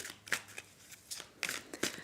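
Bulky tarot cards are shuffled by hand close up, in several quick riffling bursts with short pauses between them.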